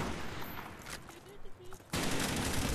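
Gunfire in Call of Duty: Black Ops during a Gun Game match, a dense clatter of shots that thins out briefly, then a loud sustained burst resumes near the end, with some speech-like sound mixed in.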